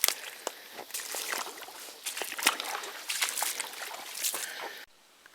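Feet wade through a shallow stream on a scouting trip, water sloshing and splashing steadily with each step, close and continuous before stopping abruptly.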